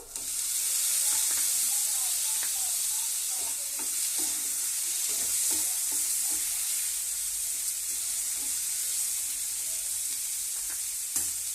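Chopped tomato fries in a hot pan while being stirred, giving a continuous loud sizzle broken by soft scraping strokes throughout.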